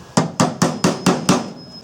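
Six evenly spaced, sharp hammer blows ring out up close as a metal pin is driven into a knife handle, each strike followed by a short metallic decay.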